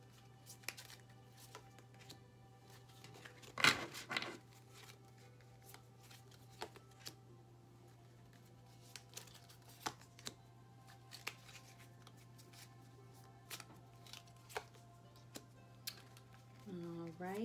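A homemade tarot deck is handled close by, with quiet riffles and sharp card snaps scattered among soft rustles over a steady low hum, and a voice briefly speaking.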